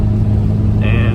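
Car fitted with a swapped 3.9L engine cruising on a road, a steady low engine drone and road rumble heard from inside, with a brief faint higher whine near the end.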